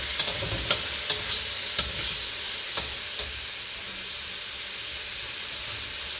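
Rice with fresh prawn and eggs frying in a hot wok, a steady close sizzle and hiss with a few sharp scraping stirs early on, then continuous frying without talk.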